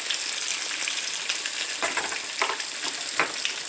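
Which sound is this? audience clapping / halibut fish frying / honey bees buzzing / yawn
halibut fish frying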